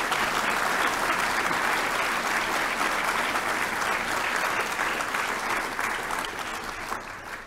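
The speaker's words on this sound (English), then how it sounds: "I'd like everybody to join me in a round of applause of appreciation" Audience at a medical advisory board meeting applauds, a steady, dense round of clapping that holds evenly for several seconds before beginning to taper at the end.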